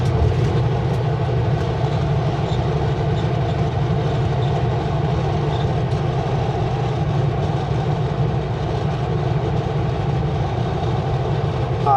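A heavy empty coal train rumbles steadily past near Mara Lake, Sicamous, a continuous low mechanical roar with a constant droning engine, loud and close throughout.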